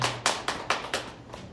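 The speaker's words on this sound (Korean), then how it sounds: "우리 나래 자매님 오셨는데 우리 큰 박수로 환영하겠습니다." A church congregation breaks into warm applause welcoming a returning member, the clapping coming in several bursting waves that swell and fade over a couple of seconds, with no talk over it.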